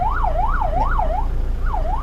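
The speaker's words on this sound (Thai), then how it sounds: "ตัวควบคุมพวกระบบไซเรนต่างๆ" A siren system fitted to a 2019 Toyota Hilux Revo 2.4J+ automatic cab pickup wails in steady rising-and-falling sweeps, loud and close through its speaker, with no talk over it.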